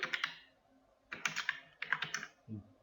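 Typing on a computer keyboard in an Excel session, quiet close-up bursts of rapid key clicks in three short runs, with a soft thump at the end.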